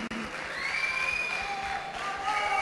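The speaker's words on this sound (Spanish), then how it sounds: "un fuerte aplauso pido para la banda" Applause and cheering from an audience greeting a band at a Guitar Hero stage event, a steady wash of clapping with shrill whistles and voices rising over it for a few seconds.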